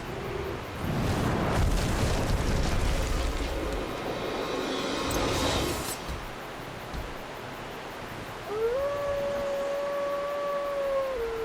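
Giant wolf boss Sif from Dark Souls lets out a rising, sustained howl near the end. It follows a stretch of loud, rumbling game noise and orchestral battle music.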